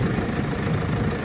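Tata Harrier SUV engine running with a heavy, truck-like drone, a steady low rumble that holds at constant loudness throughout with no talking.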